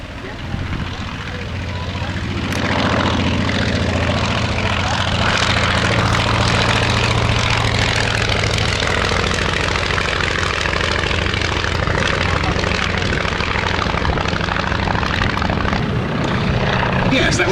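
A Polikarpov propeller aircraft flies past at the Old Warden airshow, its loud, continuous engine drone building and holding steady as an announcer talks over it.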